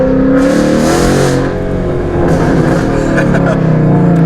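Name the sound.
car engine revving, throttle held open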